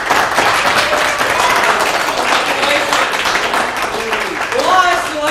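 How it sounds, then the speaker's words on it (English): Theatre audience at a stage play applauding steadily, a dense, fairly loud wash of clapping with a few voices rising near the end. "Let's have a round of applause from the citizens of the 49th state in the Union"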